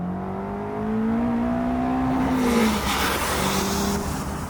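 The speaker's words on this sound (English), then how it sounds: "It's a little 2-litre 4-cylinder engine." A small 2-litre four-cylinder engine in a Caterham or Morgan sports car revs up, its pitch climbing steadily, then drops briefly before rising again, loud and nearby.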